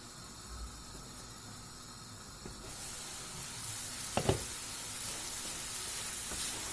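Menemen with tomatoes and melted butter cooking in a pan, a soft steady sizzle and hiss that grows slightly louder, with a couple of brief clanks of a utensil, no talk.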